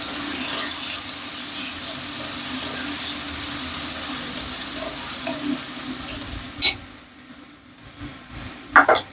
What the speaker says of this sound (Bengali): এখানে আমার পেঁয়াজ হয়ে গেছে ভাজা